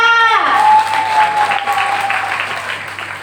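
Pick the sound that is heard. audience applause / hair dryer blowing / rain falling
audience applause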